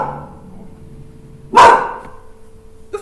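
A dog lets out one sharp, loud bark close by, breaking an otherwise quiet stretch of low room hum, with a brief faint sound just after.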